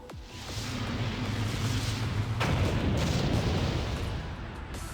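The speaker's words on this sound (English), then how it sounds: "Fire all AGM-114 air-to-ground missiles" AGM-114 air-to-ground missiles fire and strike in the Blue Archive video game, a sustained loud rumbling roar of launches and blasts with a sharp burst midway, dense and continuous throughout.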